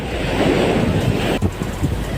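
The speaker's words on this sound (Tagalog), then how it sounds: "Grabe ang alon." Strong sea waves and heavy wind buffet a small fishing boat on rough water, a loud, continuous roar and rush close to the microphone with no speech.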